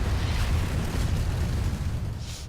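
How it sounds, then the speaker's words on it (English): Grenade explosion in the video game Planetside 2, a dense, rumbling blast with heavy low-end boom sustained over a couple of seconds, loud and filling the whole clip. "Grenade somewhere."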